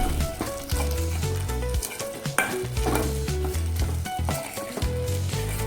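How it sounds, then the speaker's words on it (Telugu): Boiled taro root frying in a pan, with a steady, loud sizzle and a spoon scraping and stirring, up close, under a bed of music. "ఉడకబెట్టుకున్నటువంటి చామదుంపల్ని కూడా వేసేసుకొని 4 నిమిషాల పాటు ఫ్రై చేసుకోవాలి."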